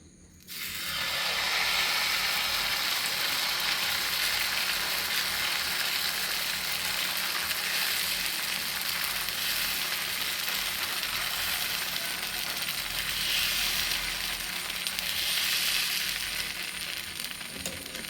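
Millet dosa fries in a hot pan with a steady, close sizzling hiss that starts abruptly and carries on without a break.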